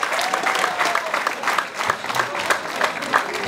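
Dense, steady clapping from a crowd at a Rwandan wedding introduction ceremony for Aline and Noel, loud and continuous for a few seconds with a faint voice carrying through it.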